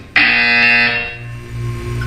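A buzzer from the Portal 2 video game sounds as a loud, steady electronic tone lasting about a second, then fades into a low ambient hum.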